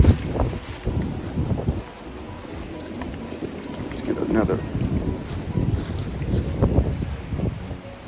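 Steady wind gusts across an outdoor home yard with a lemon tree and garden plants, a broad rushing roar buffeting the microphone throughout, with a person talking over it.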